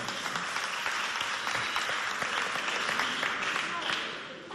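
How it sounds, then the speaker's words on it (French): Loud, dense audience applause for jury members at a school debate event between two lycées, many hands clapping continuously before tapering slightly at the end, with some voices mixed in. "On les applaudit bien fort."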